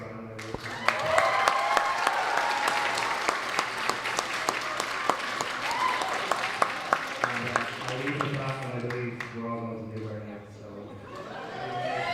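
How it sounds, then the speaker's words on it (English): An audience at a student union election results announcement bursts into sustained clapping with some laughter and chatter, then the applause fades as a voice begins speaking. "And a round of applause for Brandon."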